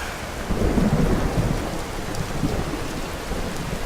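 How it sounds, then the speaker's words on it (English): Video game heavy rain pours steadily while low thunder rumbles through, loud and close, with no voices. "And it's raining again."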